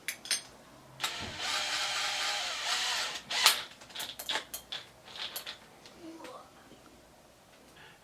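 A power drill with a 1-inch spade bit bores a doorknob hole in a door, a whining run for a couple of seconds followed by short bursts and clicks, close up.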